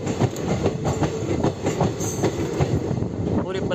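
Basava Express (17308) pulls out of Basavana Bagewadi station, its wheels beating a rhythmic clickety-clack over rail joints, heard up close from on board at moderate loudness.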